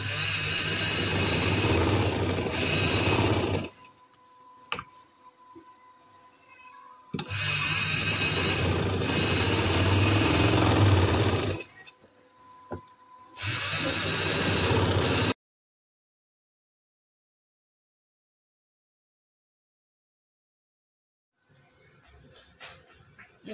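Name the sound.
sewing machine stitching a double seam on a kameez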